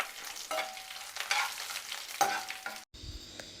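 Urad dal and chana dal fry in a pan for masala dosa, a faint crackling sizzle with occasional stirring scrapes, quiet and close, ending in a brief dropout.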